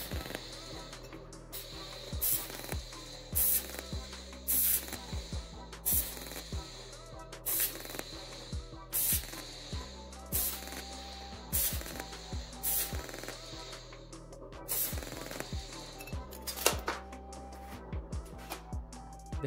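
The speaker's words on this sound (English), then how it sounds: "To avoid burning through the thin sheet metal, using a filler rod, I welded in short spots" Short spot welds on thin sheet metal with a filler rod, heard as repeated bursts of crackling buzz separated by brief pauses over a steady low hum, close and fairly loud, with no talk.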